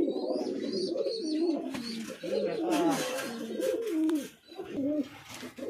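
Fancy pigeons in a breeding loft coo continuously nearby, overlapping soft throaty calls from several birds, with faint background chirps and no talk.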